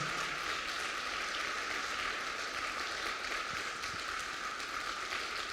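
Sustained applause from a church congregation for the volunteer serving team, a steady dense wash of clapping that holds evenly throughout without pause.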